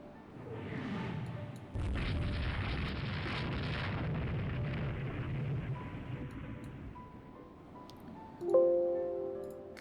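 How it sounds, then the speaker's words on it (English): A torpedo hit explodes in a Rule The Waves 2 naval battle, with a sudden loud burst, then a sustained rumbling roar that fades, ending in a sharper bang followed by a ringing tone. "Okay, hit by a torpedo."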